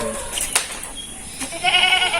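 A goat bleats near the end, a wavering cry following a few quieter rustles and clicks.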